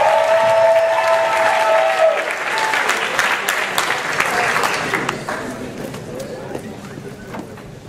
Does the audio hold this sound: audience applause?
yes